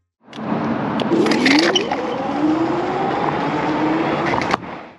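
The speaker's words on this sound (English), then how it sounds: "the whine of the motors is just iconic at this point" Rovoron Kullter 60-volt electric scooter riding along, a continuous whining motor tone that rises and then holds steady under road and wind rumble, close and fairly loud, ending abruptly.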